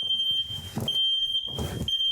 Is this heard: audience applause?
no